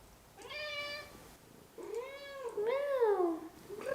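A cat meows several times close by, a short meow followed by longer, drawn-out wavering meows.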